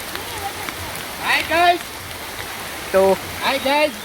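Heavy rain pours down during a street clean-up in Bhavnath, Junagadh, making a dense, continuous hiss throughout. Voices speak in short bursts over the downpour.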